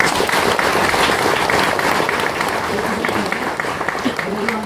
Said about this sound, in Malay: Kita berikan tepukan kepada ketiga-tiganya